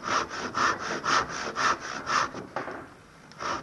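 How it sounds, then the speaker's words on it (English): A hand saw cuts into wood to shape the head of a saw stool: about eight rhythmic back-and-forth rasping strokes, close and even, then a brief pause and one more stroke. "The more saw cuts you do, the better job it'll be."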